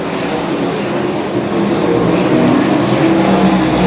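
Sprint cars roaring out of turn four at a dirt oval, a dense, continuous engine drone from several cars swelling slightly louder as they approach.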